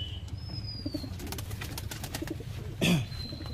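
Pigeons in a home loft give soft, low cooing close by, with a brief burst of flapping wings near the end and a faint chirp in the background.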